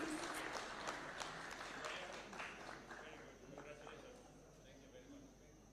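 Applause from an audience at a business awards ceremony in Kenya, honouring a top petroleum importer; sustained clapping fills the room at moderate distance, gradually thinning out over several seconds.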